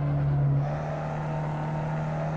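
A Ford Fiesta XR2 engine lapping the Tsukuba circuit hums steadily at close range, holding a near-constant drone that eases slightly in pitch after the first half-second, with no talk over it.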